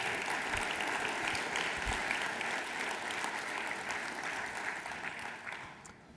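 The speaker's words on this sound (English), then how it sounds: "I think we should give them a round of applause" A university event audience gives the faculty leadership team a long round of applause, a dense, even wash of many hands clapping that slowly fades toward the end, with little talk.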